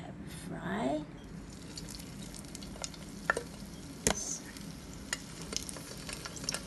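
Chicken spring rolls deep frying in a pot of hot oil, a steady bubbling sizzle with occasional sharp pops and clicks, and a voice briefly heard at the start.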